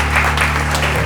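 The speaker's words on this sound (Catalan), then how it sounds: "Fem-li un aplaudiment." Studio audience clapping in a short, loud burst of dense applause over a low steady hum, lasting about a second.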